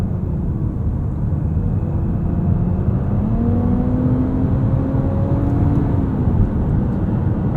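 A turbocharged 3-cylinder engine in a Nissan Rogue Platinum AWD hums steadily from inside the cabin while accelerating, with a smooth rising drone and faint whine over road noise, and no talking.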